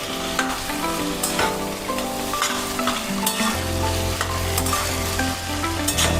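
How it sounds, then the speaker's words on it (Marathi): Mashed eggplant with spices is stirred while it fries in a pan, giving a loud, continuous sizzle broken by scraping stirs, close up, with music underneath. "सर्व असं व्यवस्थित आपण मिक्स करून घेऊ आपले सर्व मसाले लागले पाहिजेत"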